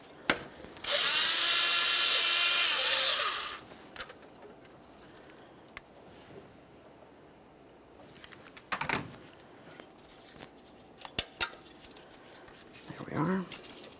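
A power tool whirs loudly for about three seconds while removing a 10mm mounting nut from the alternator of a 2012-2015 Honda Civic 1.8L I4, followed by scattered clicks and clunks of handling parts.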